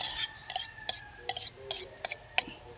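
Papaya is stirred with seasoning in a cooking pot, giving a string of quick scraping and clinking utensil strokes against the pan at an uneven rhythm, close and fairly loud with no talk.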